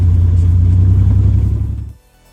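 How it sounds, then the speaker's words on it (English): A rebuilt Buick Grand National on its first test drive after frame and front suspension repair, its engine a loud close low rumble holding steady, then fading away near the end. "So this is the first test drive with everything back together."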